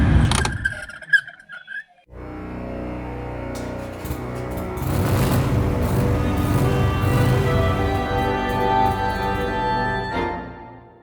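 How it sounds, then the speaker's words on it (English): A noisy heater blower fan in a 2006 Vauxhall Corsa C starts after a few scattered knocks and runs as a steady, close, whirring rush that stops near the end. "we've got a fan that only works on number 4 and is a little bit noisy"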